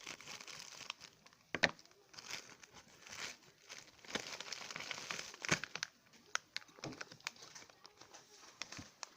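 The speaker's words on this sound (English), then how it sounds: "It's time to get another mail opening tool, IKEA scissors in this case." Quiet crinkling and snipping as scissors cut open a mail package close up, with irregular cuts and rustles spread across the whole stretch.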